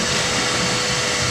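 A wet vac sucks water out of a hot tub with a loud, steady broadband roar and a gurgling churn underneath, continuous from start to finish.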